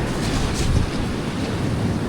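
Waves breaking on a beach during a heavy rainstorm, a dense steady roar of surf close by with wind rushing over the microphone and no break in the noise.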